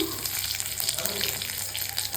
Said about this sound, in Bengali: আর জিরে ফোড়ন দিয়ে দিলাম